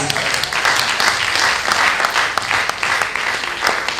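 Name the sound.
audience applause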